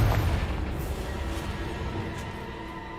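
A Confringo fire-blast spell in the game Hogwarts Legacy goes off as a deep booming burst with a rumbling low tail, then trails away beneath lingering in-game ambience.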